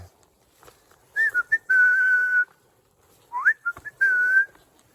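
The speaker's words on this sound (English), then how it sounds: "I'm whistling away as well for the bears" A person whistles outdoors in freezing weather in bear country, a few short rising notes, then a long sustained tone, repeated twice with pauses between, close and fairly loud.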